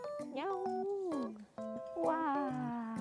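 A house cat meows several times in drawn-out, rising and falling calls, close and clear, at a home in Yeongju, with people's voices mixed in around the calls.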